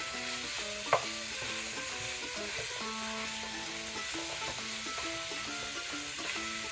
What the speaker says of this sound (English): we just want to break up our meat. This is just a pound of ground beef.